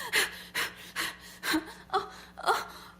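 A person breathes in ragged, panicked gasps, about six sharp breaths in quick succession, each rising and fading, close and fairly quiet with no speech over them.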